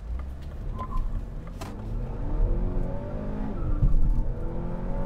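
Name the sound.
Mini Cooper S engine revving in go-kart mode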